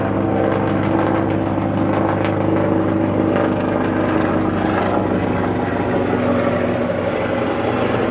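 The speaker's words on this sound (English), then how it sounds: "It's definitely a helicopter. Oh, there it is. It's coming right overhead." A helicopter passes overhead, its steady, loud rotor and engine drone filling the whole stretch without a break.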